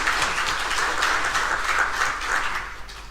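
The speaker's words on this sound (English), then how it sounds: "A round of applause." An audience at a panel discussion on inclusive service delivery in Southern Africa gives a steady round of applause, a dense wash of clapping that holds for about three seconds and eases slightly at the end.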